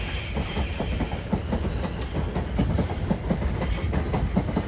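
Class 450 electric train departing Clapham Junction, a steady close rumble with rhythmic clickety-clack of wheels over rail joints and a faint hiss, continuous throughout with no talk.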